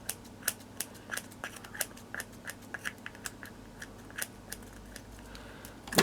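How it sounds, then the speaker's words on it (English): Scissors snip excess material off a handmade miniature laundry room piece, a steady series of small sharp clicks spaced about every half second, close and quiet, ending with a louder handling rustle. "And then we just trim all of that off."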